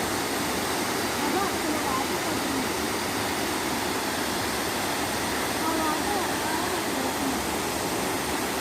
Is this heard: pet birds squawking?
no